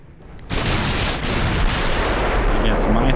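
14-inch naval guns fire in the warship video game Ultimate Admiral: Dreadnoughts. A loud, heavy boom erupts after a brief pause, then rolls on in a dense, sustained rumble of gunfire and blast noise.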